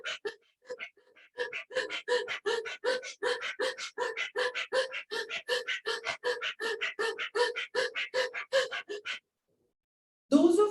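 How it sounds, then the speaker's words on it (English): Rapid rhythmic panting breath with the tongue out, Swana pranayama yoga breathing, dozens of quick, even huffs close to the microphone for about nine seconds, then a brief pause and a louder breath. "So we stick the tongue out and we inhale and exhale fully."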